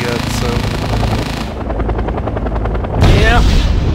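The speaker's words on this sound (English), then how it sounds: "scout helicopter came in from the northern part of the map there" A scout helicopter in a military video game flies in, its loud thumping rotor beat steady and close, joined by bursts of gunfire and game sounds, with a voice talking over it.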